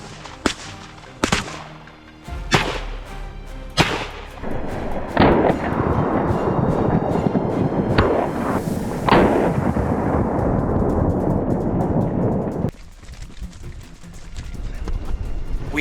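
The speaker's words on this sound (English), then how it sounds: "As soon as they entered our line of fire, we pulled the trigger." Hunters fire at wild boars on a farm, several sharp loud gunshots cracking in quick succession at first, then a heavy sustained rumble and commotion, with more scattered shots near the end.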